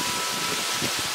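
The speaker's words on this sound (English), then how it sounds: "I'm actually very surprised we're getting this much rain." Steady rain falls outside on leaves, a dense, even hiss that stays constant and fairly loud throughout with no break.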